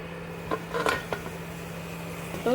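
A lid set onto a cooking pot on a home stove, a few light metallic clinks and taps close by, with a steady low hum underneath and no talk.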